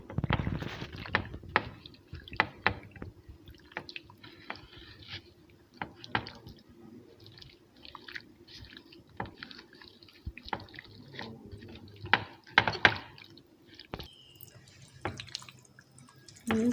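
Chicken marinade being mixed with garam masala, oregano and other spices, giving close, wet squelching and soft irregular clicks and squishes, with no talk.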